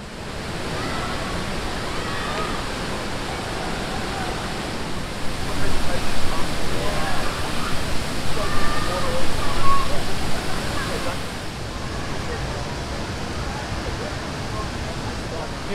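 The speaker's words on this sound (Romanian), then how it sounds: "foarte frumos la cascada asta" A waterfall in Bali roars as a dense, steady rush that swells louder in the middle, with faint crowd voices mixed into the wash.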